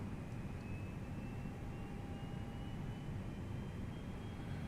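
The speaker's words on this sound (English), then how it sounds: "APU is up and running. So we'll put on the APU bleeds. You can hear all the fans starting up." Inside an Airbus A320neo cabin on the APU bleed air, the ventilation fans spin up into a steady, broad airy roar with a faint thin whine over it, continuous and unbroken.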